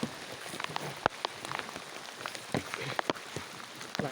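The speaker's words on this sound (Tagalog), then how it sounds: "Lakas ng ulan guys." Heavy rain falls on a farm in the countryside near rice fields, a dense steady patter with scattered sharper drops striking nearby surfaces.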